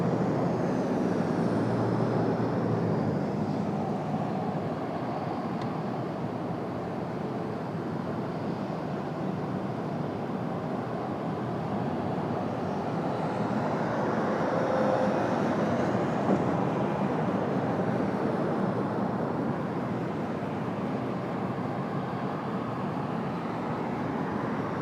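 A jet airliner lands on runway 1 right at Dulles airport, heard as a continuous low engine rumble and roar that holds steady for the whole stretch, fairly distant and unbroken.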